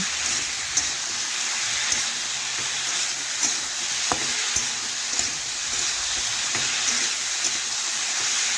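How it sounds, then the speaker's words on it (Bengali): Mixed vegetables stir-fried together in a pan, a steady hissing sizzle filling the clip with occasional faint taps and scrapes of the spoon, close and continuous with no talk. "এইভাবে দেখুন ভাজতে ভাজতে আমি সমস্ত সবজি একসাথে কষে নিলাম"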